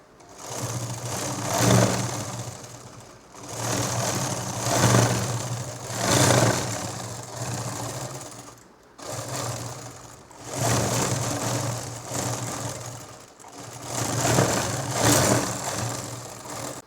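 Sewing machine stitching a nightdress seam, running in bursts of a few seconds with brief pauses between, a close, steady mechanical hum and rapid needle clatter that swells and fades with each run.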